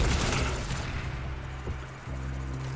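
Gunfire from a PSG1 sniper rifle in Call of Duty: Black Ops, a loud, dense barrage of shots and booms with a sharp crack near the end before the roar carries on, no voices.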